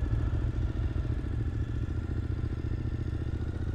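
A motorcycle on a road trip to the Grand Canyon, heard from the rider's seat. The engine thrums loud, low and steady while cruising, with a rhythmic pulsing beat and no talk.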